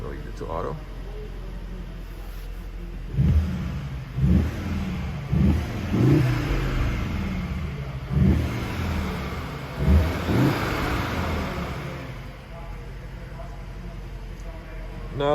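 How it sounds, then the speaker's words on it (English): A 2021 Cupra Formentor VZ in Cupra mode is revved at a standstill, its engine swelling in roughly six short, punchy blips over a steady idle, with a voice talking in between. "Now we're gonna turn on the car for a second and show you the revs"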